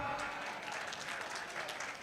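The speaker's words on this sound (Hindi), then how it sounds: "ताली बजाओ।" Audience clapping at a competition program in a Gurjar dharamshala at Triveni Dham, a steady, fairly faint patter of many hands sustained throughout without voices on top.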